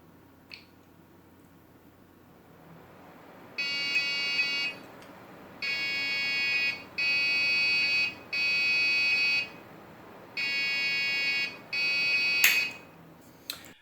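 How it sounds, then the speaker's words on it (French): A Dell Optiplex 780 computer beeping at power-on: five long, loud, even beeps in a regular pattern, each about a second, over a faint room hum, with a couple of small clicks and no talking. "il s'allume du premier coup, cette fois, et il bip toujours"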